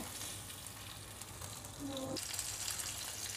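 Pomfret fish rubbed with turmeric and salt fry in cooking oil over medium heat, a steady close hiss and sizzle that grows noticeably louder and brighter partway through.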